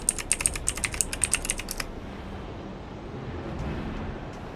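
Rapid clicking keystrokes on a computer keyboard, a quick close burst of taps lasting under two seconds, followed by a low, quiet room hum.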